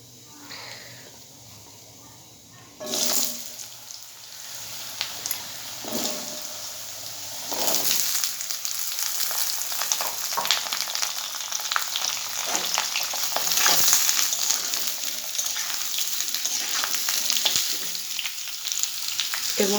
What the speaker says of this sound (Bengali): এবার দিয়ে দেবো কেটে রাখা আলুটা।